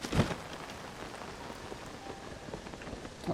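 Steady rainfall pattering on surfaces in a fantasy adventure game world, a continuous soft hiss with a few sharper bursts near the start and end, no voices.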